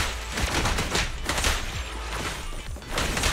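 Rapid, dense gunfire from the video game Zenless Zone Zero, a continuous fusillade of loud shots and impacts with short gaps, close and dominant throughout.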